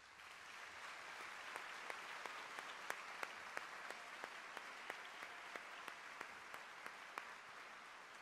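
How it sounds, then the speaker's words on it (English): Faint, distant audience applause at a county honor band concert, a steady soft patter of many hands punctuated by evenly spaced sharper claps close to the microphone. "So may you please give all of them a round of applause."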